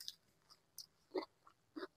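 Someone eating a home-cooked meal, with a few soft, close chewing and biting sounds in short separate bursts over quiet background.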